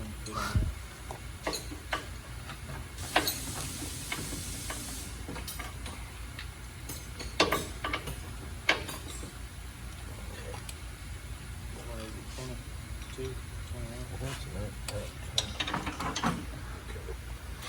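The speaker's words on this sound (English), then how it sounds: "you got a big ratchet, half-inch ratchet" Half-inch ratchet clicking on a suspension bolt of a 2003 Ford F-150 shop truck, with bursts of rapid pawl ticks close by amid workshop clatter and voices in the background.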